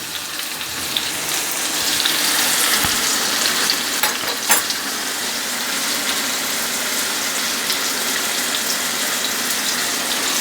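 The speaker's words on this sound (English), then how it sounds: "now it says to add the broth here" Broth poured into a hot pan of garlic shrimp and vegetables for spaghetti, giving a steady loud sizzle and bubbling hiss with some stirring scrapes throughout, no voices.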